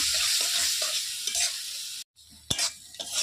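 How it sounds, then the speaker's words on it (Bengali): Ridge gourd with poppy seeds being stirred in a frying pan, soft sizzle under rhythmic scraping strokes, a brief cut to near silence, then a sharp clatter and renewed sizzling. "একটু নেড়ে চেড়ে মিশিয়ে নেবো পোস্তটা ঝিঙের সাথে"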